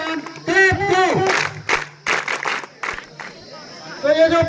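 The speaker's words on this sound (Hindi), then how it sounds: "इसके लिए एक शानदार तालियों से अभिनंदन और स्वागत करो" Schoolchildren at a village school event burst into a few ragged rounds of applause and rhythmic claps, heard beneath and between loud amplified speech from an announcer.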